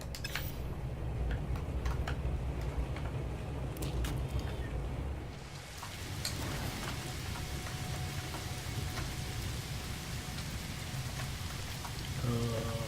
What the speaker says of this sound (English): I'm out here in the storm here.